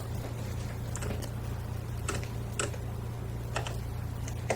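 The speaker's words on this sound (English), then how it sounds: "this is a typing test on 10fastfingers.com with a Creative Sound Blaster X Vanguard K08 keyboard" Sparse, crisp clicks of typing on a Creative Sound Blaster X Vanguard K08 mechanical keyboard, scattered irregularly over a steady low hum, fairly quiet and close.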